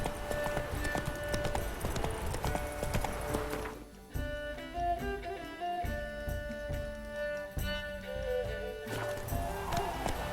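A horse gallops in The Witcher 3, its rapid hoofbeats pounding in a steady rhythm close by, with game music and ambient sound underneath and brief speech in places.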